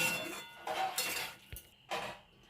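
A spoon stirs chunks of jackfruit into spice masala in a pan, giving a few close scraping strokes and metallic clinks against the pan with short pauses between, no talking.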